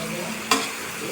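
Quail gizzards and liver frying in a pan with garlic, chili and onion give a steady close sizzle, broken by one short bright clatter midway.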